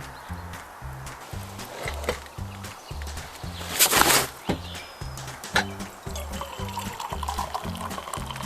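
Coffee poured into a cup at an outdoor fire-cooking camp: a brief splashing pour rises mid-clip over a steady, rhythmic low knocking and background crackle.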